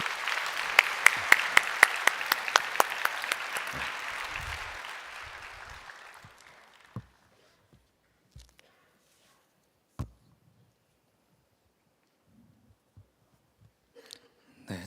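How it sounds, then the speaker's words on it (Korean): Church congregation at Good Shepherd Church applauding to welcome a speaker to the front, a dense burst of clapping that fades over several seconds, followed by scattered footsteps and small knocks in near silence. "박수로 환영해 주시기를 바랍니다."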